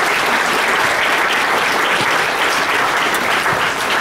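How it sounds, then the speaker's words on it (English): Loud, sustained applause fills a hall at a dirt track racing awards banquet, a dense wall of clapping hands with no letup from start to finish. "let's give another big round of applause"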